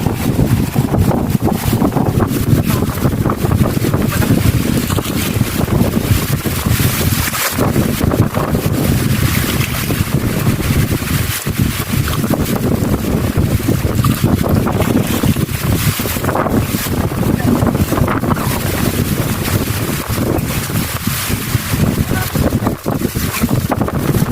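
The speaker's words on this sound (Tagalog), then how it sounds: "Ay malakas ang hangin guys." Strong wind roars continuously across the microphone on a boat during sea fishing, a loud, unbroken buffeting rush with water noise beneath and occasional voices buried in it.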